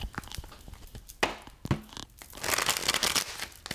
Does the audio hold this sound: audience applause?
no